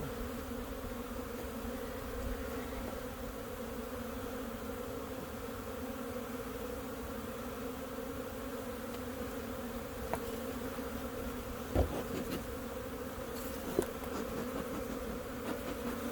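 A swarm of honey bees buzzing around a hive during a spring inspection, a dense steady drone that fills the whole stretch, with a couple of soft knocks partway through and no talking.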